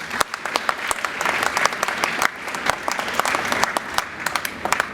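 A crowd gives a round of applause, many hands clapping in a loud, dense, steady burst with some sharper individual claps standing out.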